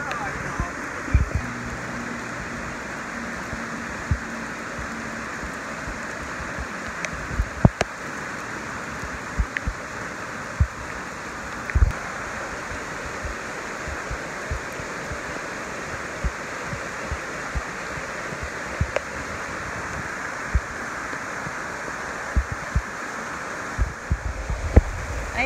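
Steady rushing of a creek and waterfall near Laurel Creek Falls on the Appalachian Trail, a broad continuous roar up close with occasional small knocks and thumps over the top, no talking.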